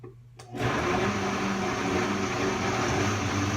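An electric blender whirls onion and eggs, starting abruptly after a short quiet pause and then running as a loud, steady motor whir with a churning hum to the end.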